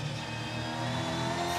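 Super2 touring race cars at Sandown in a brief burst of engines revving hard, a steady, moderately loud mechanical roar with no one speaking.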